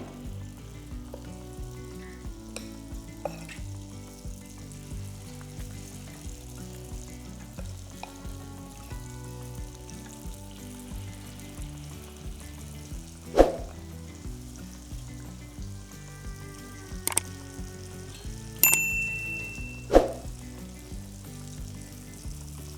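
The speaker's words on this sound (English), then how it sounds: "take a small ladle of the batter and gently drop it into the oil" Steady sizzling of spoonfuls of Kaara Appam batter deep frying in hot oil, with occasional sharp clinks and taps of utensils over the bubbling.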